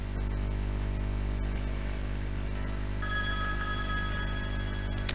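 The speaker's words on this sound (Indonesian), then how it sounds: "ada telepon dari Kang Adi." A steady low engine rumble fills the background, and partway through an electronic telephone ring starts up, clear and tonal above the hum.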